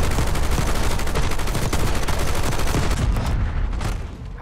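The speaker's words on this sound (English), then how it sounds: "I'm literally shooting directly at a guy, and, like, bro is not dying." Gunfire in Call of Duty Black Ops 6: dense, loud, continuous automatic fire rattling without pause for several seconds, then thinning out briefly at the end.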